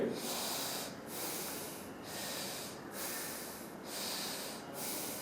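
Slow, deep rhythmic breathing during a yoga breathing exercise, with long airy inhales and exhales repeating about five times in steady cycles, close and breathy with no talking.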